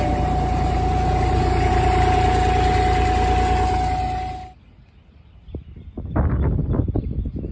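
Car engine idling after a hot start holds a steady drone with a faint whine for about four seconds, then cuts off, leaving quiet outdoor sounds with a few soft knocks and birds.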